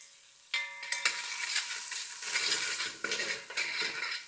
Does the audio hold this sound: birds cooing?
no